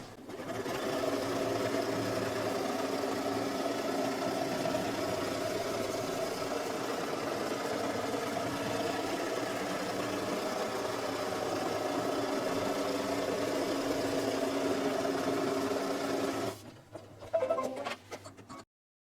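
An embroidery machine sews a tack-down stitch for a Halloween owl placemat block, a steady mechanical whir with fast repeating needle strokes running evenly for about sixteen seconds before stopping, followed by a few faint clicks.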